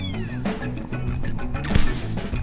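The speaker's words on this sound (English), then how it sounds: "Can you meow more?" A baby kitten gives a few thin, high meows close by over a busy background, with a sharper knock near the end.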